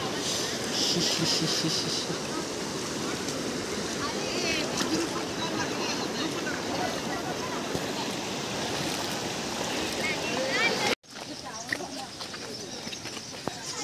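Steady rushing water of a waterfall stream at Mandle, Mahad, flows throughout, broad and continuous, with a brief break near the end before it resumes; a voice can be heard faintly over it.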